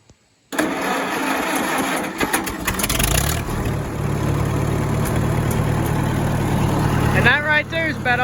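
A 1949 Farmall M tractor engine catches after a brief cranking burst. It settles into a steady, low, throbbing idle close by, and people talk faintly near the end.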